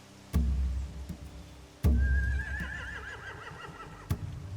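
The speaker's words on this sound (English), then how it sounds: "If we cut those horses free, we could slow down anyone trying to chase us." Horses whinny in The Walking Dead video game, one long descending neigh with a wavering tail rising over a low rumble, set between heavy thuds and impacts.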